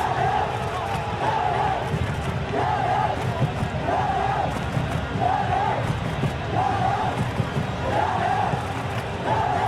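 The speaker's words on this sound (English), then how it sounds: "the crowd have tried to spark some excitement, but to no avail" Football stadium crowd in the FC 26 video game, an away match at Villarreal, roars steadily with rhythmic chanting swells throughout and no clear speech.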